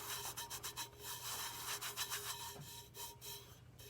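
Fine glitter being rubbed by hand onto a tumbler, a steady scratchy rubbing with repeated strokes, close and fairly quiet, with no talking.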